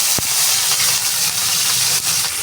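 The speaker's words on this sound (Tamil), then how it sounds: "ஒரு பெரிய வெங்காயம் 3 போட்டுக்கணும்." Sliced large onions dropped into hot oil with mustard seeds, cumin and curry leaves for mushroom gravy, giving a loud, dense, steady sizzling hiss close by, with a brief knock at the start and no talk.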